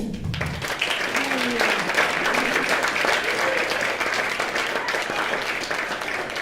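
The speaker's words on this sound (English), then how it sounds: "Clap for Marisa." Audience applause at a gathering on plant medicines and healthy masculinity, steady crowd clapping filling the room for several seconds, with a little cheering and voices mixed in near the start.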